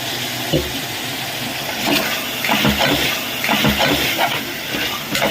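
Water splashes and pours in several short bursts with a steady hiss underneath, close by, as a little water is added into a pressure cooker.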